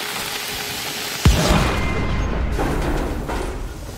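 A single heavy explosion from the video game Evil West bursts out suddenly, then a long rumbling roar and crackling debris tail off, loud and close, with no talk over it.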